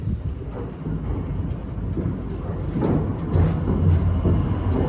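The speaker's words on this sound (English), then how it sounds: "a train is coming over this bridge" A heavy train rumbles and clatters across an iron railway bridge overhead, heard from underneath, a deep rolling roar that builds steadily louder, with faint metallic knocks, loud and close, no voices.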